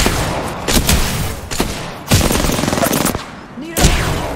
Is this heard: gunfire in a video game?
yes